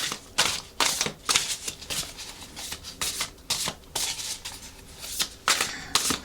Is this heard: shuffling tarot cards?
yes